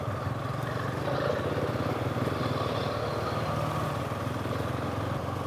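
Enduro travel motorcycle engine idling steadily with a low, even rumble that stays close and constant throughout, no voices.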